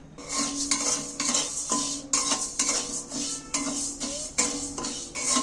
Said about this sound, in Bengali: শুকনো খোলায় আমি প্রথমে ডাল দিয়ে দিচ্ছি কড়ার মধ্যে